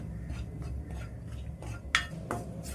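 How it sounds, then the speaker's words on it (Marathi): Bajra flour roasting in ghee in a pan on low heat, stirred with a utensil that clinks and scrapes against the pan, with a few sharper metallic taps near the end and no talking. "लो गॅसवरती तुम्ही हे बाजरीचं पीठ असं भाजून घ्यायचं आहे तुपामध्ये"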